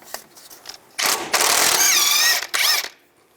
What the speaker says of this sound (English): Use a 22mm socket, take the castle nut off.